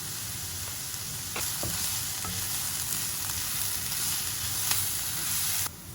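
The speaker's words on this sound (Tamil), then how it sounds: "வெங்காயம் நல்லா வதங்கிடுச்சு." Onions sautéing in a pan with curry leaves and salt for a prawn fry, giving a steady close sizzle and crackle with a few brief stirring clinks, alone without talk.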